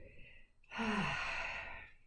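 A slow exhale through the mouth during a calm qigong breathing exercise, one soft breathy sigh that swells and fades after a short pause, close and quiet.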